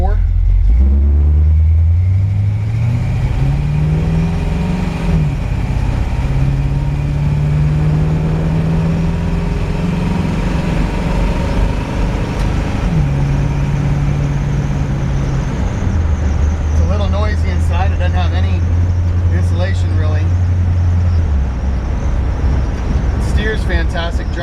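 A 1954 Chevrolet 3100 pickup with a 350 V8 and 700R4 automatic drives along, its engine droning loudly from inside the cab and stepping up in pitch through several gear changes while someone talks over it.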